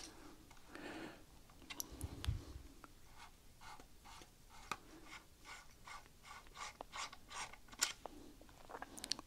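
A 3/8 inch wrench loosens the gas nut on an M1A rifle, giving faint close metallic scraping, clicking and ratcheting in an irregular series of short taps.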